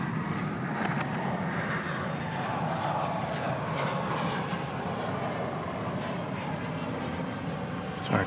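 A Delta airliner at DFW Airport, a steady distant jet engine roar holding evenly throughout, with faint voices in the background.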